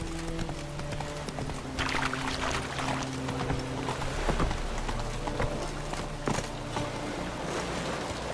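Horse hooves clip-clop steadily in The Witcher 3, a rhythmic trot of moderate loudness over steady ambient game music and background sound.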